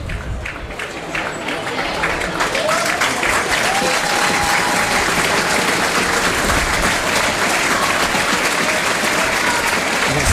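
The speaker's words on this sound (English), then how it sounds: "And it's applause for the substitute Luke Duffy." Crowd at a Macclesfield versus Oxford City football match applauding a substitute, with steady broad clapping and crowd noise filling the stadium throughout, loud and sustained, with commentary voices beneath.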